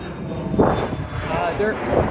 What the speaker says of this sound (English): I wonder what plane that is. It's very skinny. It could be American Eagle.